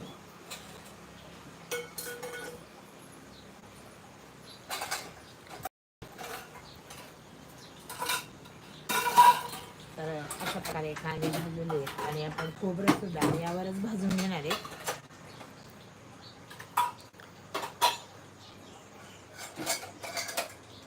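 Roasted onions scooped from a pan into a dish in a home kitchen making black-masala matki: scattered metallic clinks and scrapes of a spoon against cookware, close and fairly soft, amid a person talking.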